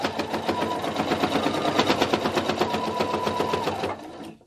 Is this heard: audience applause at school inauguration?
no